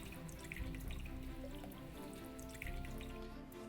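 Water runs into a cooking pot while stock is being made, a steady close pour and trickle that stays fairly quiet throughout, with no talking.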